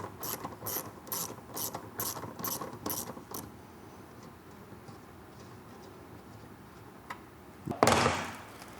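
A ratchet clicks in rapid rhythmic bursts while loosening 10mm bumper fasteners on a 5th-gen Toyota 4Runner, close and distinct for several seconds, then a pause and a short scraping clatter.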